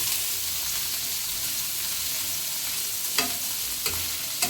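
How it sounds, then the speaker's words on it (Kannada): Paneer frying in a couple of spoons of oil for palak paneer, a constant dense sizzle close up with a few light utensil taps toward the end, no voices. "ನೋಡಿ ಫ್ರೆಂಡ್, ನೀಟಾಗಿ ಫ್ರೈ ಆಗ್ತಾ ಇದೆ."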